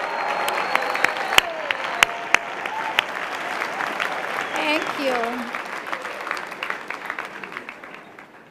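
Sustained applause from a commencement audience at a graduation ceremony honoring family and friends, steady dense clapping throughout with a few sharp louder claps, while a voice speaks briefly over it.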